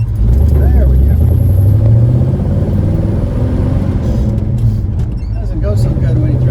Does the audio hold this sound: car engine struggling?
yes